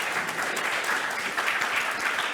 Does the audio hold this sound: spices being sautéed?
no